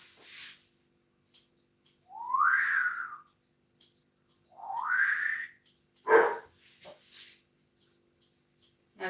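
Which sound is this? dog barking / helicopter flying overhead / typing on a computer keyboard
dog barking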